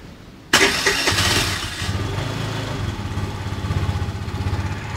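A motor engine starts with one abrupt burst, then settles into a steady, even idle close by, with a low throbbing rumble.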